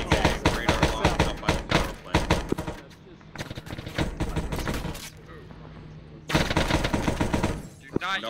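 Bursts of automatic rifle fire in Arma 3, rounds pumped through a metal dumpster, come in loud rapid volleys separated by a quieter gap, with voice chat talking between shots.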